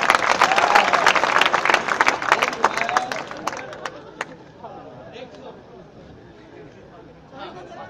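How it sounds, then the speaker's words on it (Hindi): At a Hindi poetry recital, a crowd breaks into vigorous clapping that rings out for several seconds, then thins and fades into a quiet murmur of chatter. "एक बार जोरदार ताली"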